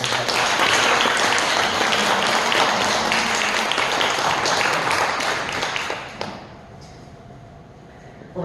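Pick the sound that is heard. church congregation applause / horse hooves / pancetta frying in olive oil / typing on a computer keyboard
church congregation applause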